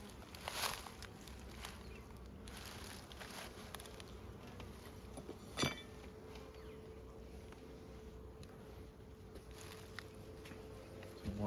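Honey bees hum steadily around an opened Layens hive during a frame inspection, a soft continuous buzz with occasional louder passes of single bees close by and a brief sharp knock midway.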